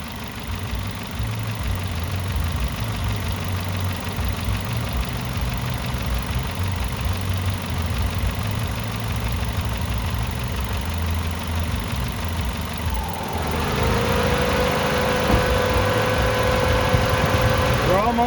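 A Ford Focus engine idles steadily, a close mid-pitched rumble with faint vibration, while someone talks over it. Partway through, the engine note rises and takes on a brighter whine.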